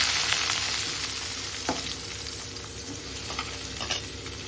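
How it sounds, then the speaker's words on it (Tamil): Fennel seeds fry in a pan of oil with a steady, soft crackling sizzle, broken by occasional light stirring clicks, quiet and close with no voices. "லைட்டாக சோம்பு போட்டுக்கலாம். போட்டுட்டு ஃப்ரை பண்ணிக்கலாம்."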